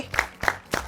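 Children clap for Ryan during a classroom game: three separate sharp claps spaced roughly evenly, close and moderately loud.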